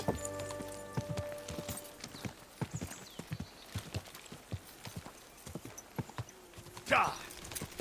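Steady hoof clip-clops of a horse walking in the video game Kingdom Come: Deliverance II, with a voice speaking over them and a brief whinny-like burst near the end.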